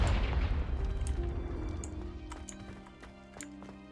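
A Confringo fire-blast spell goes off in the Hogwarts Legacy video game: a heavy boom opens, then fades into a rumbling tail with scattered crackles and pops over a soft, sustained musical tone.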